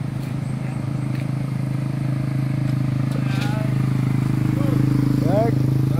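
Motorcycles passing on a road near a beach, with a steady loud engine drone and a few rising whines as bikes go by, while people talk over the traffic.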